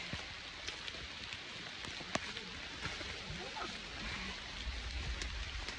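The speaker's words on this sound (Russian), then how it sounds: "Ноги мокрые, дождь сильный, ливень, град." Heavy rain mixed with hail pours down outdoors on a rainy trek through the Chernobyl zone, a dense continuous hiss scattered with sharp pattering impacts, close and steady throughout.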